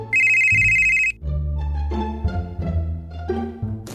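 A telephone bell rings once, loud and close, then gives way to a swelling musical sting in a comedy drama scene, with no voices.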